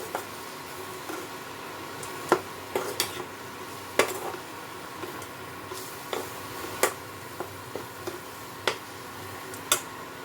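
Coconut sondesh mixture with almond and cashew paste being stirred in a pan, with a spoon repeatedly clinking and scraping against the metal at an irregular pace, close by, over a faint low hiss.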